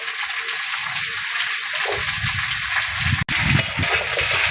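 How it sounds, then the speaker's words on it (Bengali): Potatoes and bottle gourd stalks fry in a pan with a steady, close sizzling hiss, joined by soft stirring and scraping, one brief sharp clack near the end. "ডাঁটাগুলো ভালো করে ভেজে নেব"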